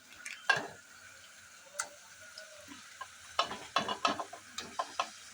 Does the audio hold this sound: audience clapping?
no